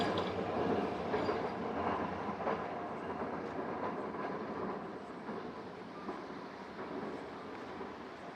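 Tram or train rolling past a quiet tram stop in a Japanese city, a soft continuous rumble with light clickety-clack of wheels, fairly distant and low in level, fading gradually.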